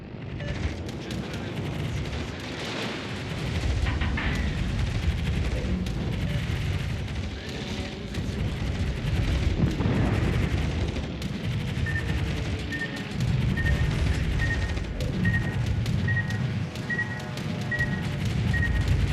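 Naval gunfire booms through a World of Warships Legends battle as an enemy ship fires, with dense rumbling blasts and explosions rolling continuously and a faint repeating tone in the later part.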